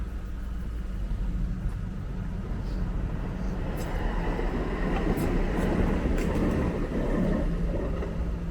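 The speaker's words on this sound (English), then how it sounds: "Local train is passing." A local train passes alongside a bike trail on a Sunday, producing a steady, sustained rumble and rolling roar that fills the whole stretch, with faint high squeals and clanks, heard without talk.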